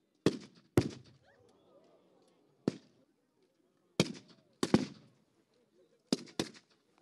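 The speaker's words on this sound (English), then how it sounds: "Bullets and grenades are flying across the field." Blank-fired gunshots and grenade blasts at an outdoor WWII battle reenactment between Red Army and Nazi German forces, sharp loud reports coming singly and in quick pairs with quiet gaps between, no speech.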